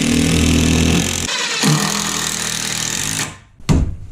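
A power tool cuts off a piece of wood wall framing inside a skoolie conversion, a loud steady buzzing rasp that cuts out, resumes, then stops with a short final burst.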